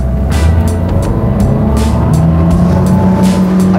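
A 350-horsepower, 5.3-litre Volvo Penta V8 drives a Chris Craft Launch 28GT power boat, revving loud and close with rising engine pitch as it accelerates, alone without talk.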